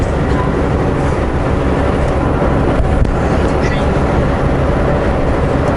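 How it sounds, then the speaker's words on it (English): A steady, heavy rumble of a train rolling alongside fills the clip, broad and continuous like rail noise heard from a moving vehicle. "We're catching up to a train on the left-hand side there."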